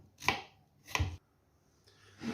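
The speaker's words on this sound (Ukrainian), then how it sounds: "Цибульку нарізали, нарізаємо тонесенько, щоб аж світилося" An onion is sliced very thinly with a knife on a board, giving three separate crisp cutting thuds spaced about a second apart, close and with no talk.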